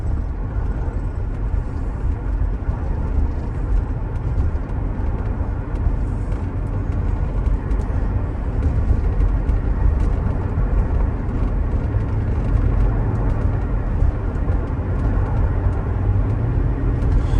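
A 2005 Mercedes SL500 with coilover suspension driving with the top down, a steady low engine and road rumble with wind noise, close and continuous.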